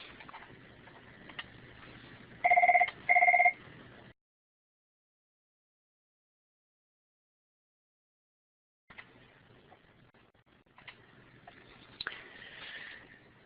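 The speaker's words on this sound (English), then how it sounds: "stop there, just got a phone call" A telephone rings during a math homework lesson: two short, loud electronic ring bursts with a steady pitch, close by, followed by a silent gap.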